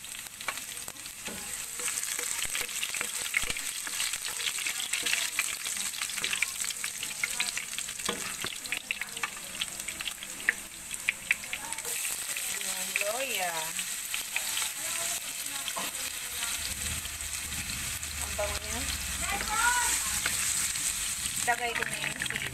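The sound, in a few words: sautéing chili and onion in oil for chicken adobo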